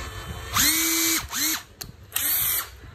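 A cordless drill with a nickel battery pack runs in three short bursts as its speed trigger is tested, whining up and down in pitch, loud and close with brief pauses between runs.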